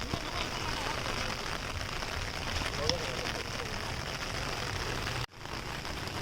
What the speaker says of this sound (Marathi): मिनटं पाऊस आला मी इकडे आलोय.